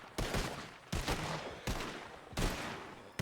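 Four sharp gunshot bursts in the video game RedM ring out at roughly regular intervals, each a loud broadband crack with a short tail, and no voices.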